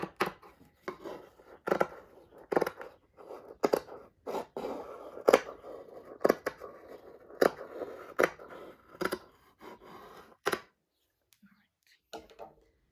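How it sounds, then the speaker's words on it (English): Scissors cut through tapestry warp threads on the back of an overturned loom, midway from the bottom: a dozen or so crisp, close snips in a steady rhythm, then a quiet pause and a few final clips. "I have turned over the loom and I'm going to cut right about here, so about midway from the bottom"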